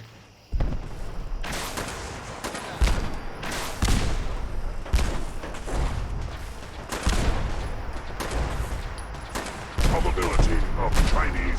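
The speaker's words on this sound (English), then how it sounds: "Shooting gamma guns? Or are those plasma?" Heavy gunfire from gamma or plasma guns in Fallout 4 rattles nearly nonstop, loud and close, with repeated sharp bursts and thuds layered over one another.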